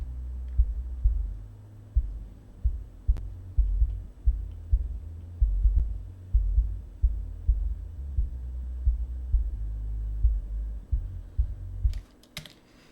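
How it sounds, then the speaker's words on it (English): Only the deep low end of a kick drum and bass, below 50 hertz, is left, heard as a steady series of muffled, evenly spaced thumps over a low hum, with no voices. "you can hear it's just the low end of the kick and the low end of the bass"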